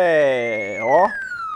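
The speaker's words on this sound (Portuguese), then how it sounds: "a hora que você ouve esse barulho da sirene" A siren of the police-car kind sounds close and loud, its pitch sweeping and bending over a second and a half, with no talk over it.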